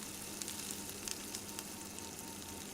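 Chicken pakoras fry in a pan of oil, giving a faint, even sizzle with small crackling pops as they are turned and stirred, continuous and close.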